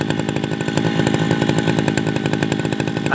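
Tabata brush cutter engine running on its old original carburetor and exhaust, a loud steady two-stroke buzz with rapid rhythmic firing, close by and alone.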